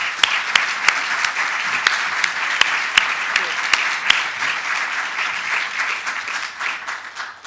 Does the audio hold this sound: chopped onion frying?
no